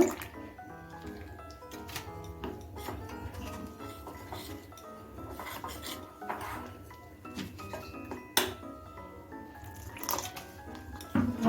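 A thick batter for a kakrol (spiny gourd) and prawn dish being mixed by hand in a bowl with small splashes of water, giving soft wet squishing and dripping sounds with light clinks of a bowl and utensil, steady and close.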